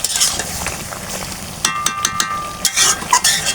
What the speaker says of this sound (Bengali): এই পানি দিয়ে আমি সুন্দর করে কষিয়ে নেব।